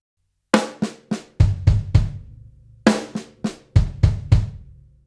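Drums play two short bursts of sharp snare backbeats and ghost notes mixed with deep bass drum thumps, close and dry, separated by a brief pause.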